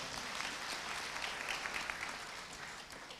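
Church congregation at a Sunday service giving a warm round of applause, steady close clapping from many hands throughout.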